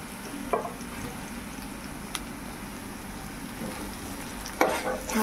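Masala frying in a pan with bandapuvvu (stone flower), stirred with a steady low crackle and a few louder scrapes of the spoon against the pan, close and even throughout with no voices.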